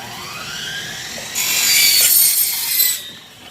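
A harsh, high-pitched grinding of aluminum being cut rises for about a second and a half, then fades, heard at moderate distance.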